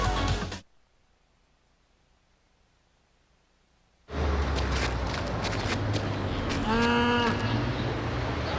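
Cows mooing in a Chick-fil-A commercial: after a short burst and a long silence, a loud herd ambience rises with repeated drawn-out moos close by and a clear long moo near the end.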